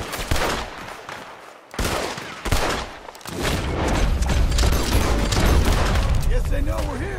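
A gunfight breaks out in an outlaw camp in the Red Dead Redemption 2 video game, with loud scattered rifle and pistol shots, then a dense continuous volley, and a voice cries out near the end.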